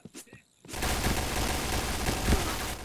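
Rapid bursts of automatic gunfire from the shooter video game Point Blank, a dense continuous volley following a few brief sounds, with occasional louder shots standing out.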